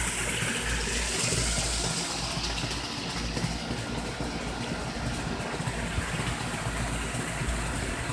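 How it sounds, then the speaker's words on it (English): A pool waterfall running: steady, loud broadband rush of falling water, constant and unbroken throughout with no voices. "you can hear the water running on the pool"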